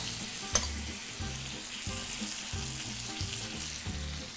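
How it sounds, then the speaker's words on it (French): Chicken breasts fry in foaming butter with a steady, close sizzle that runs throughout, along with a sharp clink near the start and repeated low thumps of stirring or handling in the pan. "Donc on a un beurre bien moussant. On peut mettre les poitrines directement dedans."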